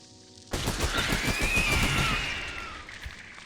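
Rapid automatic gunfire in a horror video game, a sustained burst of fast, even shots poured into a creature's hive, loud and close with a rising screech over the shooting before it trails off.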